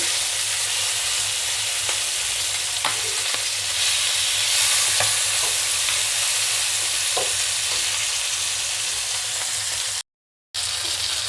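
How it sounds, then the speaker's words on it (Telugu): Fish pieces sizzle steadily in a hot pan for about ten seconds, with a few scraping clicks of the turner, then a brief sudden silence before the frying resumes. "చూడండి మనకు ఫిష్ ముక్కలు రెండు వైపులా బాగా ఫ్రై అయిపోయినాయి"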